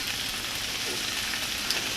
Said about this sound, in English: So if I hear it sizzling, I'm going to turn the heat down a little bit more.